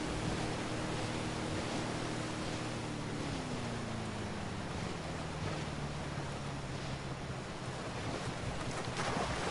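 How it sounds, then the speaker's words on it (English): A motorboat engine in the video game Ghost Recon Wildlands drones over rushing water and wind, its pitch sliding lower partway through, continuous and fairly loud. "Just get the boat and drive it to the drop-off."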